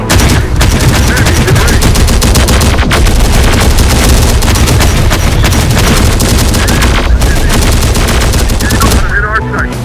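Heavy, continuous gunfire in the video game Terminator Dark Fate Defiance, loud and close, with rapid machine-gun bursts layered over booming shots and a dense battle din that barely lets up.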